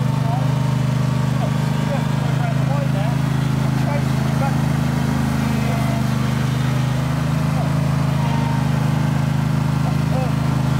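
A lawnmower running on grass: a steady, loud engine drone with a low hum throughout, continuous and unbroken for the whole stretch.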